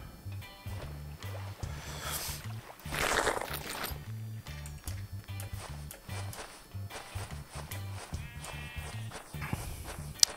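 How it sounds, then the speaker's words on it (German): Sheep bleating in the Minecraft video game, a few short bleats over steady rhythmic game background music, with a louder burst midway. "Ein Schaf macht mäh,"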